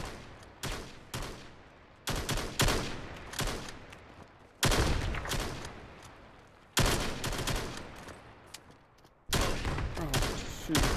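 Repeated bursts of loud, close gunfire in the VR shooter game VAIL VR, with several volleys separated by short gaps, each fading away before the next burst starts.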